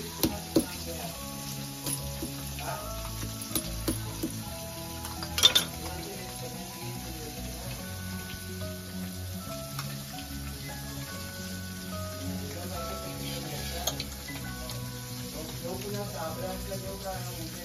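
Oil and garlic sizzle steadily in a pan for a Koli-style fish preparation, a continuous frying hiss with occasional clinks of utensils and people talking in the background.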